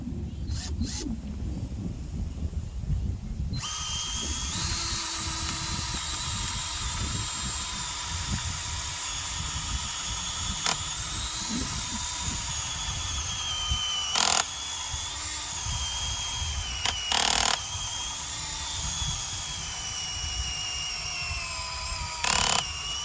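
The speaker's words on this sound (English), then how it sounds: "we're going to drill a hole here" A cordless drill whirs steadily as it bores into wood, with a few brief louder bursts and clicks along the way, close up and without talking.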